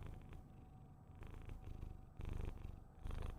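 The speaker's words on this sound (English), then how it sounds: "I just wanted them to hear your purring" A house cat purrs right against a microphone, a soft, steady rumbling purr with rhythmic pulses of breathing, close and quiet with no talking.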